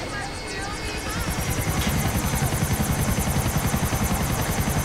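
A helicopter flies in GTA IV, its loud rotor chop building into a fast, steady pulsing whir with a high engine whine, with voices talking faintly under it.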